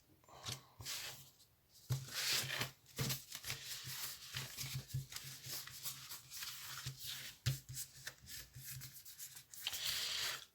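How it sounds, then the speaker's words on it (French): Tarot cards are shuffled and cut by hand, producing close, dry rustling and rubbing bursts with brief pauses and sharp card slaps, no talking. "Je vais faire la coupe."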